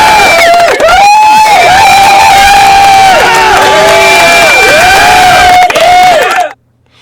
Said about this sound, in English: Do I have applause on my stuff?